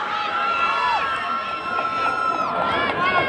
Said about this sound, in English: Can we have a big round of applause for this first league final?